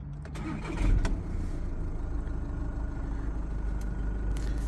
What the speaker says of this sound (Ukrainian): Автомобіль без проблем запускається.